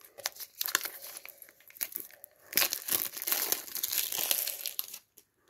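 Plastic packaging of sewing supplies crinkles and crackles as it is cut open with paper scissors, close-up bursts of rustling in uneven waves that stop abruptly near the end.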